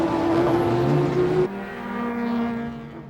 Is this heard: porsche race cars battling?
yes